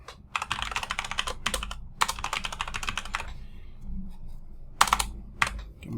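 Quick bursts of typing on a computer keyboard while entering a GitHub password, crisp close-up key clicks in several runs separated by short pauses, with no voices.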